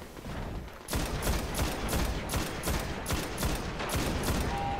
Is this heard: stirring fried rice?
no